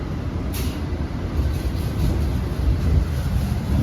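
An economy train from Jakarta to Semarang rumbles along at about 110 km/h with a steady low roar and faint rhythmic clatter, heard from inside with no one speaking.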